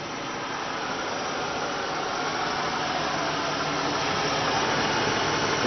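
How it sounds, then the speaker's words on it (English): A stock car engine at Sycamore Speedway roars steadily and loudly throughout, its rumble building slightly toward the end, with no voices. "Listen to the roar of that stock car engine."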